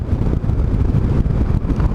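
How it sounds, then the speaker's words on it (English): Strong wind roars against an outdoor microphone on a rural walk near a ditch as clouds gather overhead. The rumble is low, steady and loud, and it fills the whole stretch with no pauses. "The wind is picking up."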